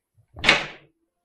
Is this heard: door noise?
yes